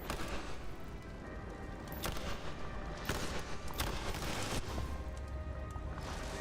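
Video game gunfire crackles in dense bursts of rapid shots and booms under a continuous noisy battle backdrop, with no clear talk.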